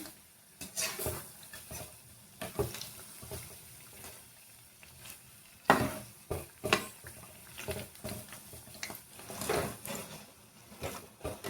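Rice flour bondas frying in hot oil and being turned with a spoon, heard as irregular scraping strokes and clinks over a quiet, bubbling sizzle, some moments louder than others.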